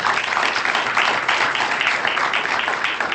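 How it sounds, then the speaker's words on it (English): An audience at a SASOL entrepreneurship day event breaks into sustained applause, dense clapping holding steady and fairly loud for several seconds, with no talking. "Please, a big round of applause for SASOL."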